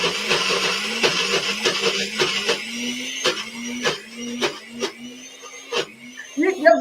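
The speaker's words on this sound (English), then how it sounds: "Sherry, I'm going to do the blender down" A kitchen blender runs while making a plant-based sauce, a whirring motor that pulses in repeated bursts, loud and close, with speech faintly under it.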